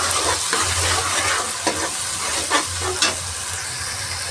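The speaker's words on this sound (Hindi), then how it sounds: "प्याज भुनने लगा है, इसमें हम डालेंगे टमाटर, उसको भूनेंगे।" Onions and tomatoes frying in a kadai, a loud, continuous sizzle with a low bubbling rumble and occasional spoon scrapes against the pan, no one talking.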